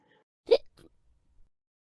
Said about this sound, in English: Who in here has ever had the hiccups?